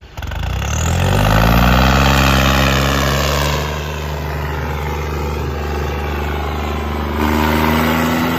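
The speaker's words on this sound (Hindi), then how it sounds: "आजा ना ट्रैक्टर चला ले आजा" A John Deere 5210 tractor engine running close by, a loud, steady diesel drone whose pitch rises as it revs, then settles back to a constant rumble without speech.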